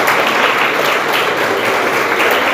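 A church congregation claps together in loud, sustained applause during a worship service, dense and continuous with no pauses and no voices standing out.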